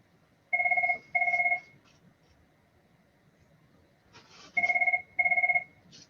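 A telephone rings with an incoming call in four evenly spaced double-burst electronic trills, fairly loud and clear, with a quiet pause between the two pairs and faint room noise.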